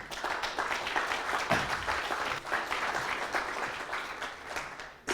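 Applause from the audience at an awards ceremony for public procurement trophies: sustained, dense clapping, moderately distant, continuing evenly for several seconds.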